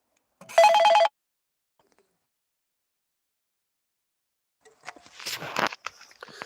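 A telephone rings once in a short burst, loud and close, followed by silence and then rustling handling noises, with no talk.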